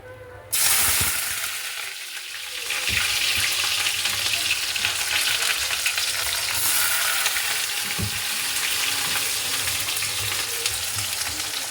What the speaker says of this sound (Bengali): তেল গরম হয়ে গেছে, পেঁয়াজটা ছেড়ে দিয়ে দেন।